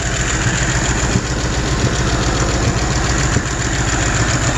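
A 1984 Camaro Z28 V8 idles loud and close, running rough with an uneven, sputtering pulse and occasional stumbles throughout, with no talk.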